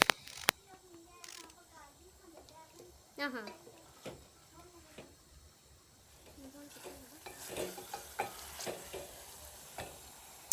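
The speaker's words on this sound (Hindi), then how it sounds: "तो अब ये तकरीबन जो है ना गोश्त हल्का हल्का भुन चुका है।" Meat for aloo gosht sizzles as it fries in a pan, with steady crackling, occasional scraping from stirring, and clinks of a utensil. A voice talks over the cooking.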